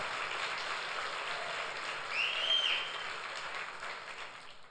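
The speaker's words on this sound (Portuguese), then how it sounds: "Dê um aplauso bem forte aí ao Senhor Jesus." A church congregation at a Sunday service applauds in a steady, moderately loud wash of clapping that swells slightly midway and then tapers off.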